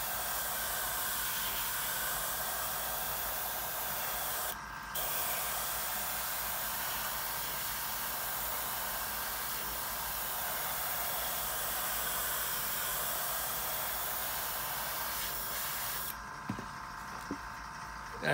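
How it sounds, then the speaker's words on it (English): A continuous, close hiss of aerosol spray paint on a 1/48 scale F-15E model base runs for a long stretch with one brief pause, then stops, followed by a few light clicks. "I'm just coming along the edge and I'm spraying down at an angle."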